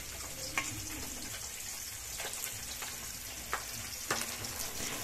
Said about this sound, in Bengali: আর তেলের মধ্যে মাছগুলো খুব সুন্দরভাবে ফুটছে।